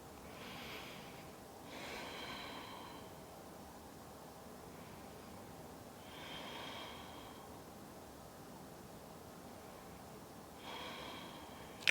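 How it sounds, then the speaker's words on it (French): Slow, deep breaths taken while holding a yoga pose in a vinyasa flow session, three soft airy inhale-exhale swells spaced several seconds apart, faint and close, with no talking. "Encore 5 respirations ici."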